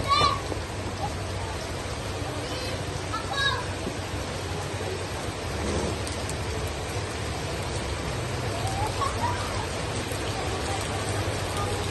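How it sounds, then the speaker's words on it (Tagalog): Steady rain falls outdoors in a village in Abra, a constant soft hiss of drops on surfaces, with faint voices and children's sounds at a distance. "Lumapit na ng ulan"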